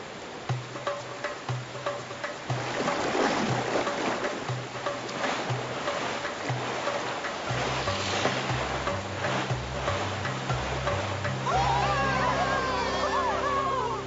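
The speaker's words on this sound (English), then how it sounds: "Rapids ahead." Cartoon river rapids rush and churn under a boat: steady loud water noise with splashes and surges throughout, under a music score and occasional voices.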